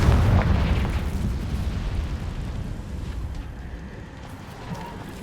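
A Confringo blasting spell in the Hogwarts Legacy video game booms with a heavy low rumble at the start, then fades into a lingering roar and faint debris crackle.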